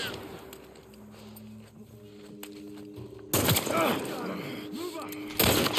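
Gunfire in The Last of Us Part 1 video game, a sudden loud shot blast followed by ringing noise, with a second loud burst near the end, after a quieter stretch of tonal game ambience.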